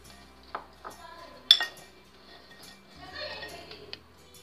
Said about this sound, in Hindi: सभी चीज़ों को हम अच्छे से मिक्स कर लेंगे।